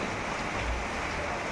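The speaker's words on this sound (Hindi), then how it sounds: "बारिश बहुत ही बारिश है दोस्तों, बहुत ही बारिश।" Heavy rain pours down steadily on a village, a dense, even hiss that stays loud and unbroken throughout with no talk over it.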